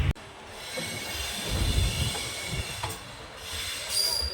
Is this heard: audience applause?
no